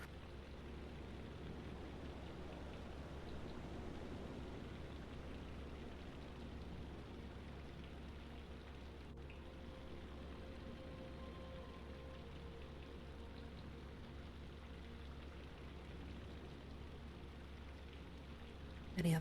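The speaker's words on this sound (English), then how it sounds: "That raindrop stuff is probably going to put me to sleep." Steady rain patters on a surface in a dark, tense setting, a dense continuous hiss with a low rumble beneath that holds constant and alone throughout, with no voices.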